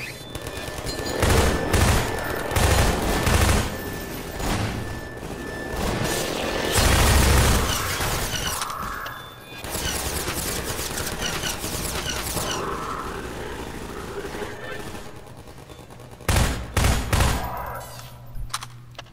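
Automated turret guns in the shooter game Half-Life 2 fire sustained, loud bursts of rapid gunfire with booming impacts, continuing through most of the stretch and ending in a few separate heavy shots.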